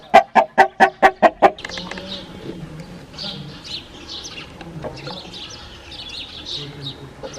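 A rooster on a Pakistani village farm gives a rapid series of about seven sharp, loud calls at the start, then quieter chickens and small birds cluck and chirp in the background.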